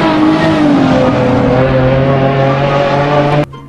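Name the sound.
toy race car revving sound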